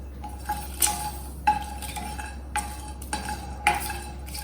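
Ingredients dry roasting in a pan for an aromatic noodle salad, with a spatula scraping and clinking against the metal in several separate strokes over a steady low hum, close and moderately loud.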